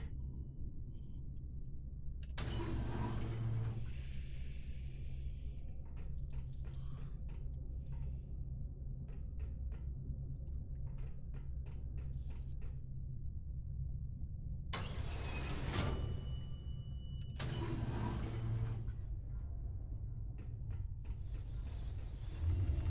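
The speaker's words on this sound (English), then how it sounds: "Thank God, the elevators are still working." In the Verne: The Shape of Fantasy video game, elevator machinery hums steadily, with a low mechanical drone, rattling clicks and a couple of loud metallic clanks or creaks breaking through.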